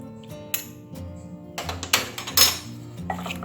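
Raw chicken is mixed with salt and lime in a bowl for Sri Lankan devilled chicken, with a few close, scattered clinks and knocks from the bowl and utensils.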